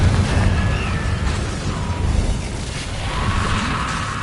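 The Confringo blasting spell erupts as a loud, sustained explosive roar with dense, crackling noise that fills the whole stretch without pause.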